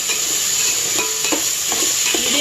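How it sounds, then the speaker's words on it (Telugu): Homemade ginger garlic paste is stirred into tomatoes frying in a pan for bagara rice, a loud steady sizzle with rhythmic spoon scrapes, close and alone. "అల్లం వెల్లుల్లి పేస్టు 1 స్పూన్ వాడాను, హోమ్మేడ్. వేసుకొని మరలా కలుపుకోవాలి."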